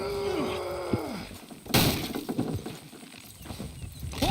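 Horses and cattle in a Red Dead Redemption 2 ranch scene make a busy, mid-distance mix of animal calls, clattering hooves and a sharp crash, with no talk over it.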